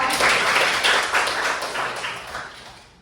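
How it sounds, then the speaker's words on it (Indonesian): Classroom applause for a student named Angelita during a Hindu religion lesson, a burst of clapping from a group of pupils that fades away toward the end. "Tepuk tangan untuk Angelita."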